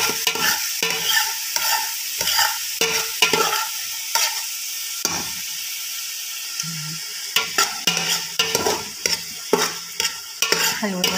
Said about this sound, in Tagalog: Haluin ng sibuyas.